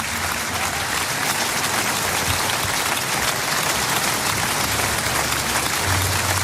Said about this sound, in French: C'est un long hommage, un long applaudissement.